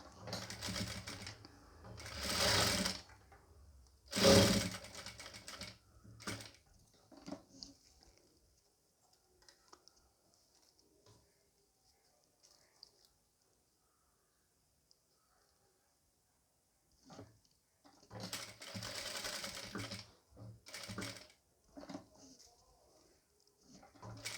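A sewing machine stitches a nighty in two short, rapid clattering bursts near the start and again near the end, separated by a long near-silent pause.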